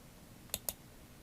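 Two crisp computer mouse button clicks a little over a tenth of a second apart, close and fairly quiet, with nothing else going on around them.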